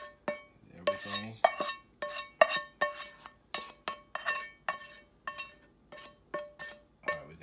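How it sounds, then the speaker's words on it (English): A metal utensil scrapes a pan clean of baked ziti sauce, making a steady run of about fifteen sharp, clinking scrape strokes in a regular rhythm, close and fairly quiet, with no talking. "Scrape your pan real good."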